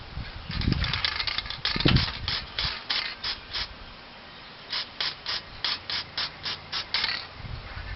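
White spray paint hissing from an aerosol can onto a spray art painting, in a run of short rhythmic bursts with brief gaps, fairly close and clear with no talking.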